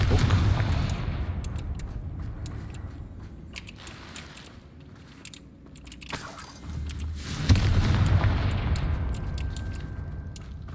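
Blasting spell explosion in a video game: loud booming bursts around the start, middle and near the eight-second mark, with rumbling low-end noise sustained throughout and no talking.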